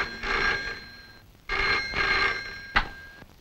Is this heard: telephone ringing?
yes